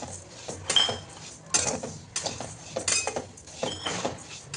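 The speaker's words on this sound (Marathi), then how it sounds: "जस्ट 1 ते 2 मिनिटं आपल्याला हे हलवून घ्यायचं आहे याच्यात" Poha flakes are stirred in a hot pan, giving a series of close metallic clinks and scrapes of a spoon against the pan. The strokes come in uneven bursts with quiet gaps between them.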